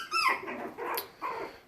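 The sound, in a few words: puppy growling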